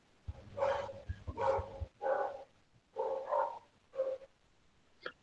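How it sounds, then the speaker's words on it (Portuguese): A neighbor's dog barks angrily, about six loud, close barks in an uneven rhythm with short pauses between them, heard alone without speech. "O cachorro da Vani tá bravo aí."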